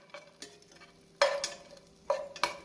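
A spoon stirs almonds, pistachios and chironji nuts in a pan while making phirni, giving a few soft scrapes and then three sharper, louder scraping strokes close by, with no talking.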